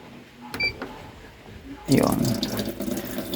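An old washing machine under repair starts taking in water for a wash cycle, a sudden gushing inflow that begins partway through after faint clicks and a voice, then runs on steadily up close.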